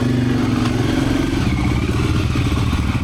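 A motorcycle engine runs loud and close as the bike is ridden out of a restaurant area, with a steady, rough mid-range drone and some clattering throughout and no voices.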